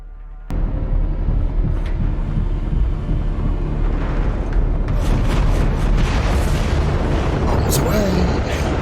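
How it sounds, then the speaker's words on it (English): Bomb blast in a space battle from the TV series The Expanse, a sudden loud boom followed by a sustained heavy rumbling roar and crackling debris that stays loud throughout, with no voices. "I'll take out as many as I can with the blast."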